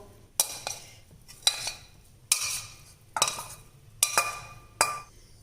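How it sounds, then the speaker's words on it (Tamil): Fried baby potatoes being scooped from a pan into another bowl, with sharp metal spoon clinks and scrapes arriving in about six separate bursts over a quiet kitchen background. "இப்போ இதை வேற ஒரு பவுலுக்கு டிரான்ஸ்ஃபர் பண்ணிடலாங்க"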